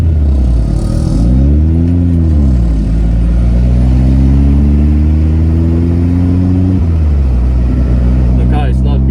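A car engine with a failing idle runs loud and close, its pitch climbing as it revs, dipping, then holding a high steady drone before dropping back, with light clatter throughout.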